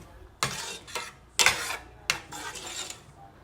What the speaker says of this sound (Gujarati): હવે કન્ટિન્યુ થોડી વાર હલાવવાની, કેમ કે છાશ નહીં તો ફાટી જાય ગરમ થાય તો